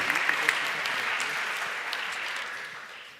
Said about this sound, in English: can we please just give another massive round of applause for these students that have done an incredible job